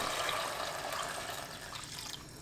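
About 1.5 liters of water being poured into a pot while cooking seaweed noodle soup, a steady, soft, broadband rush of liquid heard alone and fairly faint.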